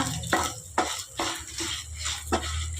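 Fenugreek seeds with byadgi and Guntur red chillies frying in a pan for a vegetable sambar, heard as a steady low sizzle broken by five distinct clinks and scrapes of a spoon stirring against the metal.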